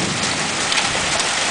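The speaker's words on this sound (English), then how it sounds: "Ice, hail coming down like crazy." Hail pours down heavily in a Pleasant Valley hailstorm, a dense, loud, continuous hiss and patter of ice striking the ground with no pauses.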